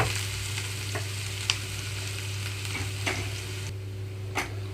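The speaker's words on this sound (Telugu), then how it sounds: "ఇక్కడ ఉల్లిపాయలు సాఫ్ట్ కలర్కి వచ్చే వరకు కూడా లో ఫ్లేమ్లో ఉంచి వేయించుకుంటున్నానండి" Onions frying slowly in a pan over a low flame, a steady soft sizzle with a constant low hum beneath and a few light stirring clicks, no voices.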